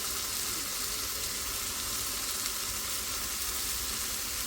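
Soaked, washed dried fish, cut into thin strips, sizzles in a hot pan with a steady hissing fry throughout, and a brief clink comes at the very end.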